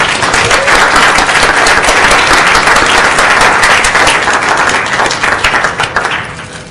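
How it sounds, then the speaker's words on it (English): Loud, dense applause from an audience at a school board of education meeting honoring a trophy-winning group, sustained and close before tapering off toward the end. "Can we all give them a round of applause again, please?"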